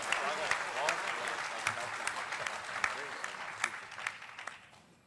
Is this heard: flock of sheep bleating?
no